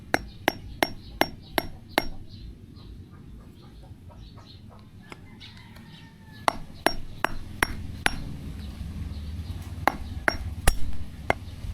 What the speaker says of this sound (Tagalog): Ang gagamitin natin pampukpok is rubber mallet mga paps.